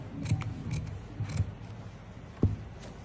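Scissors snip through pasting paper while cutting a collar pattern, giving a few close, crisp cuts in separate bursts with quiet pauses between them.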